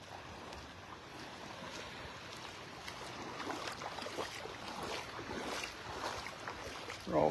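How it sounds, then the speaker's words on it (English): A boat heading out to sea off a Florida beach on a windy, dreary morning, heard as a faint distant engine drone beneath steady wind and surf rumble, with no talking. "Boat heading out."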